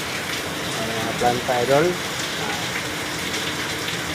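Steady rain patters continuously amid strong wind, with a voice speaking briefly in the middle over the hiss.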